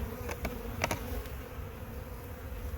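Honey bees buzz steadily around an open nuc box during installation, a continuous close hum with a few louder passes near the microphone, no talking.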